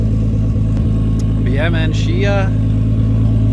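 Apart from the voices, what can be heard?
Nissan Skyline R33 GTST engine idling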